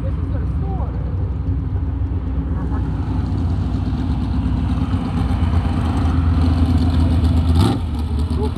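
A Mazda three-speed car idles at a drag strip, its low steady engine rumble continuous and fairly loud beneath background crowd voices and people talking nearby.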